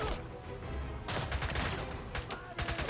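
Gunfire in the James Bond 007: Blood Stone video game, dense bursts of repeated shots in several volleys across the span, fairly loud with a voice talking over parts of it.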